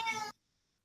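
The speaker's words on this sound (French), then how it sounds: "Est-ce qu'il y a un chat quelque part?" A pet cat gives a single short meow indoors, close and clear, cutting off abruptly into silence.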